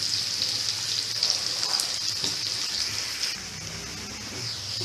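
Onions fry in oil in a pan for stuffed capsicum, giving a steady, close hiss and crackle that carries on without pause and eases slightly toward the end.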